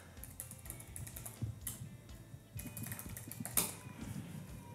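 Computer keyboard keys tapped in short, uneven bursts while a username and password are entered to link a Facebook account with Instagram; soft, close clicks over a faint room hum, with no voices.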